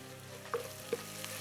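Chopped onions sizzling in oil in a pan with garlic and ginger added, a steady soft frying hiss broken by a couple of light clinks from a stirring spoon, quiet and close.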